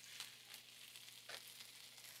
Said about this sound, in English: I'm gonna start skin side down.